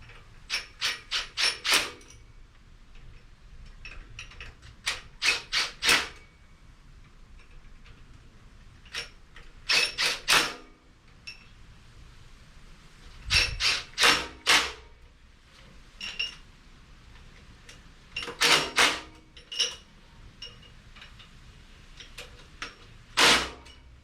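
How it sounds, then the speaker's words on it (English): Bolts on a 1957 Chevy small-block with a 6-71 supercharger being torqued in a star pattern, heard as scattered bursts of sharp metallic wrench clicks in short groups separated by quiet pauses, close up with no talking. "Torquing them in a star pattern."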